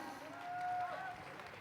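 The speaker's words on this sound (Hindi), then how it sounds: "तालियां" A short burst of audience applause at a product testimonial event, a steady wash of many hands clapping, fairly close and even in level throughout.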